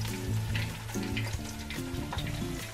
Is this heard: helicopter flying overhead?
no